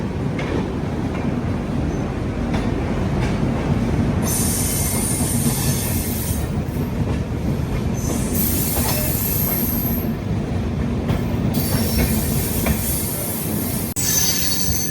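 The New Delhi–Bilaspur Rajdhani Express moving out toward the outer yard for maintenance at Delhi: a continuous rumble of rolling wheels with repeated high-pitched wheel squeals in bursts, loud and close, no talk.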